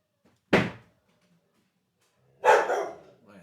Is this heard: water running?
no